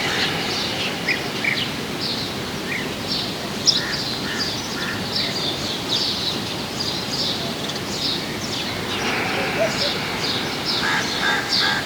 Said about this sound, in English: You might be able to hear the beautiful bird song here.